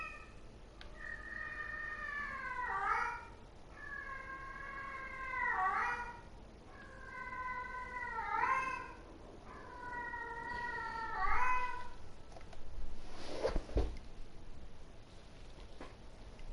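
A house cat meows repeatedly in a run of four drawn-out, rising and falling calls, each with a rough tail, loud and close, followed by a few scuffing sounds and a soft thump.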